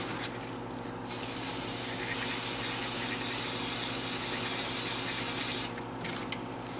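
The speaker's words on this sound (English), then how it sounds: "Use some spray tack and spray down your gaskets." Spray tack adhesive hisses from an aerosol can onto water pump gaskets for a Chevy 5.7 350 Tahoe, one close, steady burst of about four and a half seconds before cutting off.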